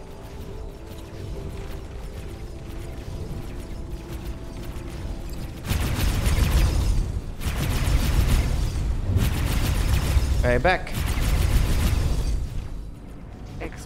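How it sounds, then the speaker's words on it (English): Explosions in the space game X4: Foundations, as a Xenon defense station is destroyed: mechanical creaking gives way to loud, rumbling booms and crackling blasts in bursts, with a brief spoken word near the start. "Explosion imminent."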